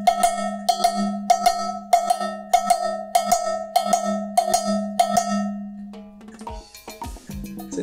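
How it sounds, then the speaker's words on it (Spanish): A cumbia chacha, a cowbell-like metal bell, is struck in a steady two-hit pattern that repeats evenly for about six seconds, each pair ringing bright and clear, before a short busier tail of mixed percussion. "ese patrón es solamente con el chacha, dos golpes, y se escucha de esta manera"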